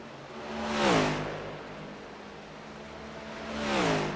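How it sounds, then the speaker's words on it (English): Race car engine in a racing video game at Homestead-Miami Speedway, cut out briefly to save fuel: two swelling drone passes that fall in pitch, with a quieter steady hum between them and no talk. "you hear him cutting out his engine"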